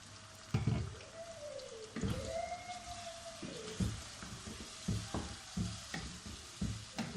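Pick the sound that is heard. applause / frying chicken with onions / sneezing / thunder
frying chicken with onions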